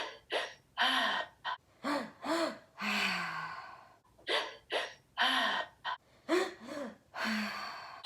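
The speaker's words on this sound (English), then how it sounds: "what you're going to do is a sharp inhale into the belly, so it should expand. A sharp inhale into the chest" Someone takes a rapid run of about a dozen sharp, forceful breaths into the belly and chest during a guided breathing exercise. The breaths are close and loud, some partly voiced, with short gaps between them.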